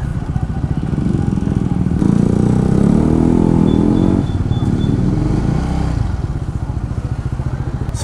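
A motorcycle engine idles and chugs close by in a steady, rumbling throb. It rises to a louder, rougher revving for a few seconds in the middle, then settles back to a steady idle.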